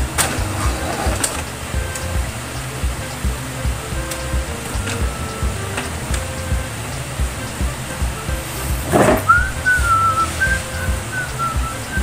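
An Epson L3158 inkjet printer whirs and clicks steadily while printing a nozzle check pattern, with a sharp mechanical clack and a brief rising whine partway through.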